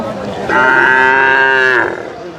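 A cow at a cattle market moos once, a loud, long, close low call lasting over a second, with faint market murmur around it.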